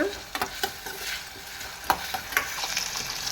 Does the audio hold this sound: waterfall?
no